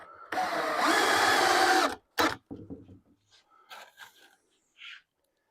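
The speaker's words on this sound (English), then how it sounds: "So all I got left to do is run some screws." A power drill drives screws into a clamped wooden dresser base frame, one long whirring run followed by shorter bursts and brief stops, close and fairly loud.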